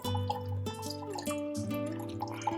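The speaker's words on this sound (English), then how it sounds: "when the water comes out of the plant, I know that the whole soil has been drenched properly" Water draining from the holes in the bottom of an indoor plant pot, a quick string of bright plinking drips and trickles at close range, steady and unaccompanied by speech.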